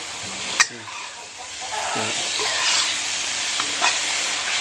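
Egg fries in a wok with a steady, moderately loud sizzle, punctuated by a sharp clack of the spatula as it is turned, plus a few softer scrapes and a brief murmur of voice.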